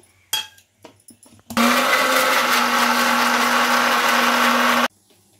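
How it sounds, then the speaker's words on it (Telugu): A kitchen mixer grinder blending tomatoes for rasam whirs loudly and steadily for about three seconds after a few brief knocks, then cuts off abruptly. "మిక్సీ జార్లోనూ టమాటాలు వేసుకొని"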